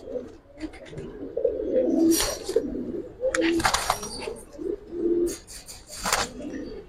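Silver Giribaz pigeons coo in repeated soft, throaty bursts close by, with rustling and wing or body movement between calls; faint background voices are present.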